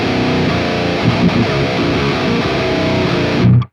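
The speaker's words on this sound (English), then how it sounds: "we could probably use a tube screamer to introduce a bit more distortion in there" A thick, chunky electric guitar distorted with a Tube Screamer plays a steady riff, sustained and loud, ending with a final heavier chord that cuts off abruptly.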